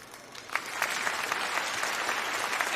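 An audience at a standup comedy show breaks into applause, a steady wash of clapping at moderate volume lasting a few seconds with no talk over it.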